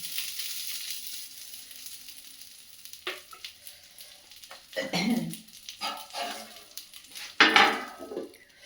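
Eggplant slices frying in oil coated with turmeric, a little sugar and gram flour sizzle steadily at moderate volume, with occasional louder crackles, utensil scrapes and stirring noises.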